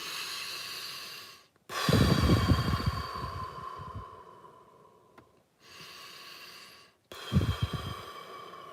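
Long, deliberate breaths are drawn in and pushed out as a breathing exercise, loud and close to the microphone, with a few slow inhale-exhale cycles separated by short pauses and no talking.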